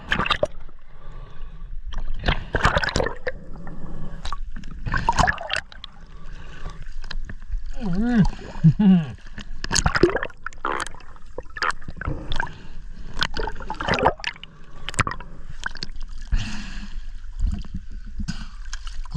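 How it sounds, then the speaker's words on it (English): Water sloshes and splashes in close bursts as a swimmer wearing flippers kicks out toward a boat, irregular strokes and gurgles recurring throughout with brief pauses between. "That was a bit of a swim with that, flippers."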